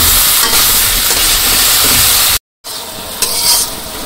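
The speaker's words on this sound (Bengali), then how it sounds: "এখন ভালো করে কষিয়ে নিই।" Spices and kochu loti (taro stolons) being sautéed in a pan, a loud, close, continuous sizzle with stirring scrapes, broken by a brief cut to silence before the frying resumes.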